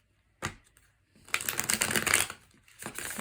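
Tarot cards are shuffled by hand: a single sharp riffle snap, then about a second and a half of dense, rapid papery riffling, followed by a shorter burst of card noise, close and fairly loud with no voices.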